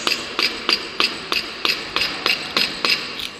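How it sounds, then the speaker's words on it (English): Steady mallet blows drive a plain edge chisel into wood to clear waste for a mortise and tenon joint, about ten evenly spaced, crisp knocks close by with no voices. "he utilizes the plain edge chisel for removing the unwanted material from the workpiece"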